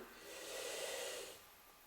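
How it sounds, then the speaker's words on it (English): A long inhalation during a yoga breathing exercise, an airy hiss drawn in steadily at close range, swelling and then fading over roughly a second and a half, alone without speech. "and then breathe in"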